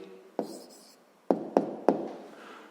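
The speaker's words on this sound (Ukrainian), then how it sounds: "зараз записуємо відповідь, пишемо відповідь" Pen strokes on paper as an answer to a sixth-grade math exercise is written down: a few sharp taps and short scratching strokes, close and quiet.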